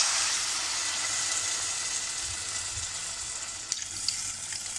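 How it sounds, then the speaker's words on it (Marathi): Water poured into a pan of sautéed moth beans sets off a loud hissing sizzle that slowly settles into a softer bubbling simmer, with a couple of small clinks near the end. "आता मी त्याच्यामध्ये पाणी टाकते"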